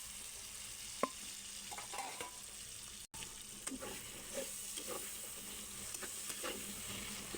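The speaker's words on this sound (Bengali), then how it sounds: "ডাঁটা দিয়ে আলুগুলো কষিয়ে হাফ সিদ্ধ করে নেব" Potato pieces and bottle gourd stems fry in a spice paste, a soft, continuous sizzle broken by small crackles and the occasional scrape of stirring.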